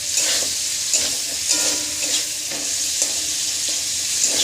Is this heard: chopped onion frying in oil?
yes